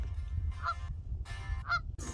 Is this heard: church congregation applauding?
no